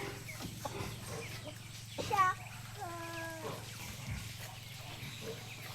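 Chickens cluck and squawk nearby on a backyard farm in short bursts over a low steady background hum, with some indistinct voices.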